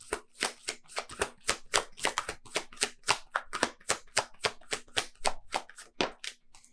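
Tarot cards shuffled by hand, a steady rapid series of crisp riffling slaps and taps, close up and clear with no talking.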